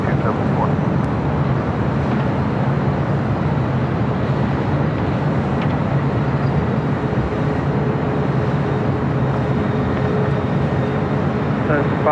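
A jet airliner rolls for takeoff from runway 25 right at LAX, a steady loud broadband engine roar holding throughout with low rumble, while tower radio chatter runs over it.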